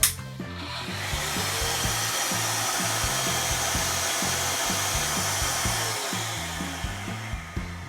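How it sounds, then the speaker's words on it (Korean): A Stanley SW75 electric wall sander motor whirs continuously at close range, with a steady rough grinding hum and faint rhythmic scraping underneath, no voices. "여기를 키면은 이 모터가 작동을 합니다"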